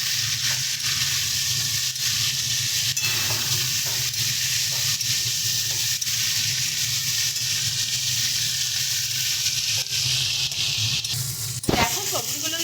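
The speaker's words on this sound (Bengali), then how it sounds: "সমস্ত সবজিগুলো দিয়ে ভালো মতন করে কিন্তু ভেজে নেব।" Mixed vegetables, pumpkin, pointed gourd, ridge gourd and eggplant, frying in a pan with a continuous loud sizzle and occasional stirring scrapes, ending in a brief clatter near the close.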